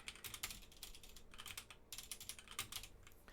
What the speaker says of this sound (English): you can also like just type random stuff in here